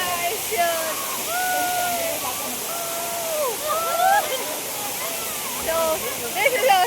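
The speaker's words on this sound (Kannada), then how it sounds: "This is our Sirimane Falls." Sirimane Falls near Sringeri, a waterfall in dense forest, pours with a steady broadband rush under nearby people talking throughout.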